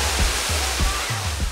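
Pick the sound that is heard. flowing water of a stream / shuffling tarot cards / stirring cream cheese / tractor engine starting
flowing water of a stream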